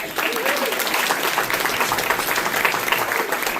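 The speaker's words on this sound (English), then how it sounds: "One more round of applause for Donna." Audience applause for storyteller Donna at an evening storytelling event, a steady, dense wash of clapping from a close crowd that holds loud and even throughout.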